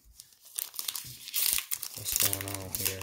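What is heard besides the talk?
unwrapping plastic wrapping from a Lenovo Smart Display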